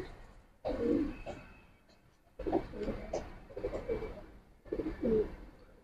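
Pigeons coo close by inside a loft in Islambag, Old Dhaka, in three separate bursts of low, throaty rolling calls with short quiet gaps between them and no talk over them.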